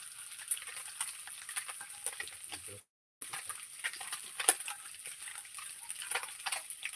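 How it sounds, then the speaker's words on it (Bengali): Small puti pond fish frying crisp in hot oil, a steady fine crackling sizzle running throughout with a brief drop to silence partway through. "একদম মচমচে পুঁটি মাছ ভাজা"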